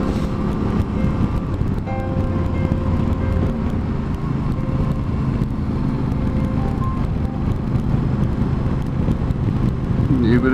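Yamaha Tenere 700 motorcycle riding along a wind farm track, a steady engine drone with constant wind buffeting across the microphone, loud and continuous throughout.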